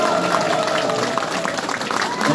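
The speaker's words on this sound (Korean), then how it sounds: "우리 군수님들께 한번 큰 격려의 박수" An audience at a regional office opening ceremony applauds the county governors, a dense, steady wash of clapping that fills the whole moment with crowd noise.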